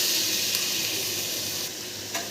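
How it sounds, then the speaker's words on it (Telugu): Tomatoes going into onions frying in a pan, giving a close, steady sizzle and crackle that softens slightly near the end, with a light clink at the close and no voices. "ఆనియన్స్ కొంచెం వేగాక టమోటాలు వేయాలండి."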